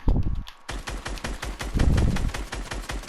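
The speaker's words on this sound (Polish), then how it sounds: "Dlaczego ja tak misuję te strzały?" Rapid gunfire rattles in a video game during a one-on-one match, with a dense run of sharp, close shots after a brief pause and no talking.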